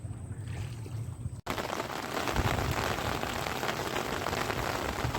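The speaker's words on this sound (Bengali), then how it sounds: "আবার বৃষ্টি।" Rain falls steadily in the Sundarbans at dusk as a dense broadband patter that starts after a short quieter lead-in and then holds loud and even throughout, with no talk.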